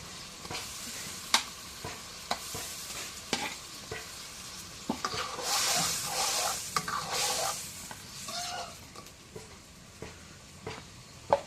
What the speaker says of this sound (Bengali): এখন ওই মাছগুলো দিই দিয়ে কষানি করি